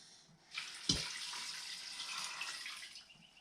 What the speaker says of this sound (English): I'm going to go ahead and add my water now